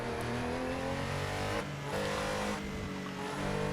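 A 1973 Porsche 911 RSR Gr.6 racing around the Targa Florio in Assetto Corsa, its engine droning loud and steady with harmonic tones that shift as it revs up and down, broken by brief dips between gears.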